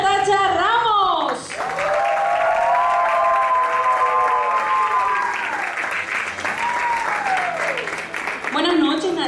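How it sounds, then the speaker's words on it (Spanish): Audience applause welcoming a speaker onto stage at an evening talk, a loud sustained clapping under a voice speaking over it, continuing throughout. "vamos a recibir con un fuerte aplauso a nuestra conferencista de la noche de hoy, a Natacha Ramos."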